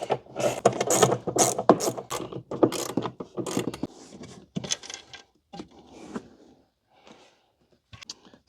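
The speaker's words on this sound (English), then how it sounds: "now what we're going to do is remove these 4 screws, 1 on each corner, in order to get this speaker grill off" Screws being backed out of a BMW speaker grill with a ratcheting tool, a run of quick clicking ratchet bursts that loosen and thin into sparser, fainter clicks and small metallic handling noises.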